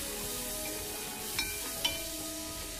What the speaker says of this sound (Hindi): अब इस मसाले को अच्छे से भून लेंगे।